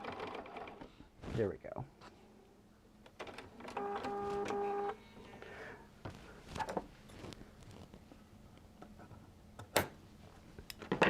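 A sewing machine runs a short burst of stitching, about a second long, sewing a seam on a simple Christmas stocking cut with an AccuQuilt Santa stocking die. Quiet handling noises and a bit of talk surround it.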